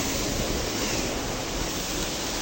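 Waterfall and river water at Rani Khola near Chatara: a dense, steady roar of rushing water, continuous and even throughout, with no voices heard over it.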